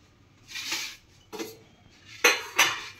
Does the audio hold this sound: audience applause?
no